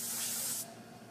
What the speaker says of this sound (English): Look how strong that spray pattern is.